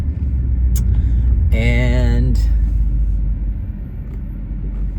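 A 2018 Maserati GranTurismo MC cruising with a low, steady rumble and road roar throughout, while someone talks briefly near the start.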